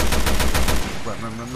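A rapid burst of gunfire in Resident Evil Revelations 2 is loud and close with quick repeated cracks, then it cuts off into a fading, ringing tail.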